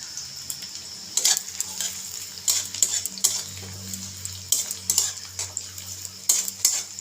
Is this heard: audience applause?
no